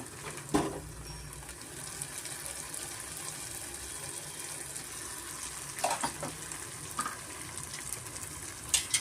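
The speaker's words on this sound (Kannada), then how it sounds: "ಸ್ವಲ್ಪ ನಾನು ಮಸಾಲೆ ಈ ಥರ ಫ್ರೈ ಮಾಡ್ಕೊತೀನಿ" Ground spice masala frying in a pan for a raw peanut curry, giving a steady soft sizzle with a few brief clinks and stirs, close and fairly quiet.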